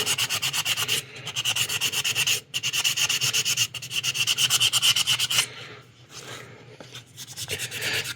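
Wet sanding of a 1/60 NeoGrade Sazabi model kit part with soapy water: rapid rhythmic back-and-forth rubbing strokes, close and continuous, with a few brief pauses between runs.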